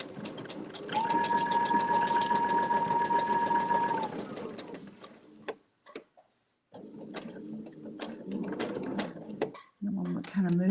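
A sewing machine runs steadily while free-motion quilting a floral quilt block, with a rapid needle patter and a sustained mechanical hum, briefly stopping and restarting, with some talk in between.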